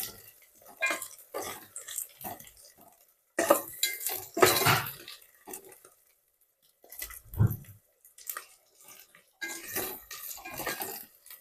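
Spoon scraping and clinking in a pan while stirring country chicken curry with ginger paste and curry leaves, irregular bursts of metallic scraping separated by short quiet gaps.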